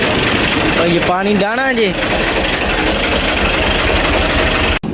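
A tractor engine idles close by with a loud, steady low rumble and vibration throughout, while someone talks over it briefly near the start.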